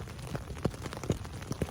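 Rain falls steadily at a shelter on the Appalachian Trail, a soft close patter with a few distinct drops striking a surface at irregular intervals.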